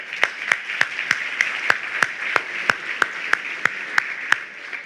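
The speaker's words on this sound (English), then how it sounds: "Please give yourselves a round of applause." Clapping at a healthcare awards ceremony comes as a steady run of crisp, evenly spaced claps over a low bed of applause, around a dozen sharp hits at a regular rhythm, fading at the close.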